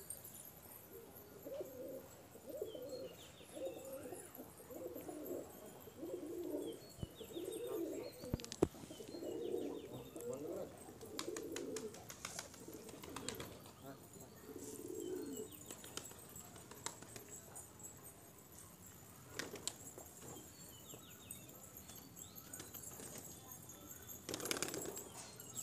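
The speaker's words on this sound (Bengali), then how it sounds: "টোটাল পায়রা দেখুন, সব ছেড়ে দেখানো হচ্ছে।" A loft flock of pigeons in Bauria, Howrah, coos softly in repeated low throaty calls after release, with occasional wing flaps and faint chirps. Faint distant voices sit under the birds.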